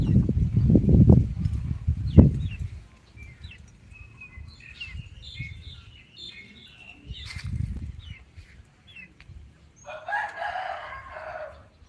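A rooster crows loudly and close at the start, followed by fainter bird calls and chirps in an outdoor rural setting in Surin, Thailand, with quieter clucks and a later burst of higher bird chatter.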